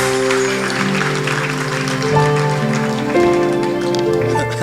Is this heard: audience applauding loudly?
yes